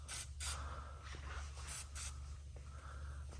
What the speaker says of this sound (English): next we're going to spray silicone on the exhaust grommets to ease removal